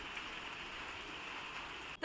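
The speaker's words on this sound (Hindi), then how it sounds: "यहाँ देखिए इतनी तेज़ की बारिश हो रही है" Heavy rain falling outdoors in Pithoragarh, Uttarakhand, a steady, faint hiss of continuous downpour that holds evenly before a sudden louder burst at the very end.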